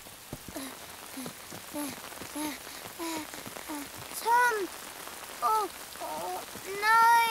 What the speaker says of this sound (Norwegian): Det begynner å regne.